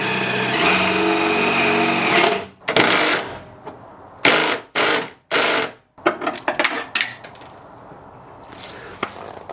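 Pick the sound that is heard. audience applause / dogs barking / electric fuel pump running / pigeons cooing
electric fuel pump running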